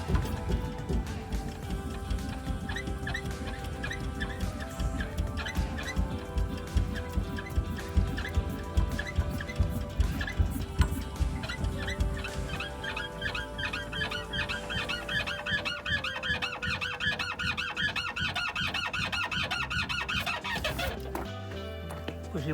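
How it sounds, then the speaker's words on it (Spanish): Repeated high squeaks and chirps from worn leaf spring bushings on a Nissan D22 pickup sound rhythmically over a low rumbling engine, growing busier toward the end before stopping abruptly. "sustituir estos tacos de las ballestas de suspensión, que están dados ya de sí y empiezan ya a chillar"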